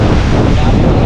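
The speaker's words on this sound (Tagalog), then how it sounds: "Ay naku, ang hangin man." Strong wind buffets the microphone in a loud, continuous roar that fills the whole moment.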